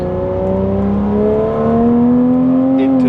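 A Porsche sports car accelerates up through second and third gear, its engine note climbing steadily in a loud, continuous drone with a rising pitch, close and sustained without a break.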